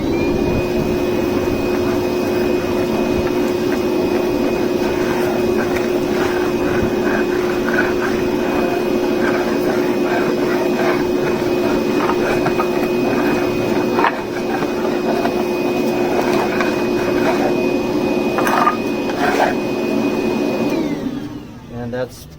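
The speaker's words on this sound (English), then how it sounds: "I could just clean the rest up with the vacuum." A vacuum cleaner runs loudly and continuously with a steady whine and hum, cleaning up after a Porter-Cable folding miter saw, then winds down near the end. Occasional rattles and bumps come through the drone.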